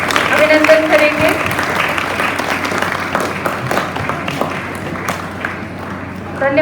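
An audience applauds students at a Teachers' Day celebration at Kendriya Vidyalaya: sustained clapping near and loud at first, thinning gradually, with voices mixed in.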